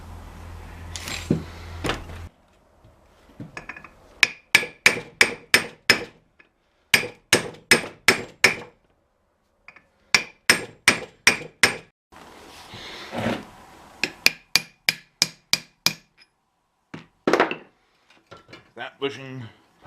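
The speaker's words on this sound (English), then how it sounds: "That bushing punched in." A hammer rings out on metal as a bushing is driven into place on a 1947 Ford 1 1/2 ton truck, coming in sharp close bursts of four to six rapid blows separated by short pauses.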